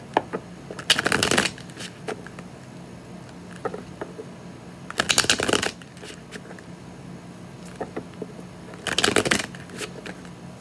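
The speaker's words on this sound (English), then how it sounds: "I feel like I'm going to have to shuffle a lot with this one." Tarot cards are riffled and shuffled in three quick, crisp bursts, separated by quieter pauses with soft handling sounds.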